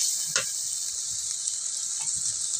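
Ginger-garlic spice paste frying in a pan, with a little water added, gives a steady, close bright sizzle and a brief spitting burst near the start. The sizzle stays constant throughout, with no talk.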